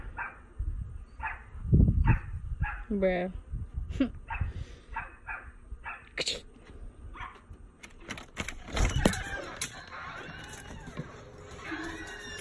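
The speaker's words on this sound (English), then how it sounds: "my mom's dog sits right there because she wants some food too" A pet dog waiting at feeding time gives a string of short barks, yips and whimpers close to the microphone, partly broken by a brief spoken exclamation and other household noise.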